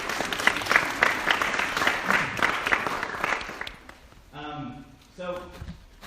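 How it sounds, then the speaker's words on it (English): Applause from an audience honouring a master printer at an art evening, dense clapping filling the first few seconds before fading out, followed by a short stretch of speech. "Stand up, everyone, for applause."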